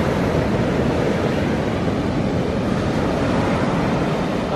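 Ocean surf breaking against a rocky shore, a loud, steady broadband roar of waves with wind buffeting the microphone throughout, no voices.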